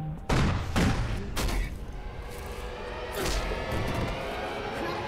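An RPG explosion and gunfire during the final campaign mission of the Call of Duty: Ghosts video game: several heavy booms and blasts in the first second and a half, another burst near the three-second mark, then a sustained rumbling wash.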